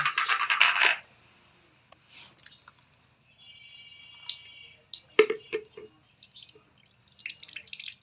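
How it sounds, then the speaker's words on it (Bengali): Carrot juice drips and trickles as the blended carrot paste is strained, starting with a dense wet burst, then scattered soft drips and small squishy splashes, fairly close and quiet. "এবার গাজরের রসটা ছাইকা নিব।"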